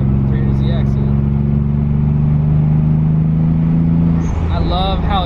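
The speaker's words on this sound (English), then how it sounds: "you can hear the turbo spool" A Nissan 300ZX with an HKS exhaust drones low and steady, with a person talking over the engine throughout.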